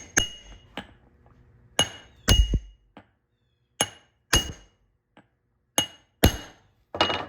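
A bearing is tapped into a broken wheel's hub with about ten sharp, ringing metallic knocks spaced irregularly, each decaying quickly into silence, close and clear with no talking.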